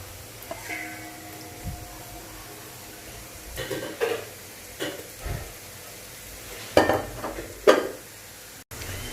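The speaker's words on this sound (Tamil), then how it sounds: "லோ ஃப்ளேமில் வச்சு பொரிங்க, ஏன்னா உள்ளேயும் நல்ல ஃப்ரை ஆகணும்" Whole chillies fry gently in oil on a low flame for milagai mittai, a quiet bubbling sizzle broken by several sharp utensil clinks and scrapes.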